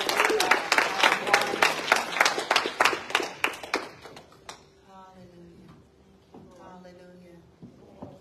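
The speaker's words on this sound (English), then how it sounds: "Give him another hand clap of" A church congregation claps and applauds in a burst of sharp, rhythmic hand claps that fade out after about four seconds, followed by quieter room sounds and a few soft knocks.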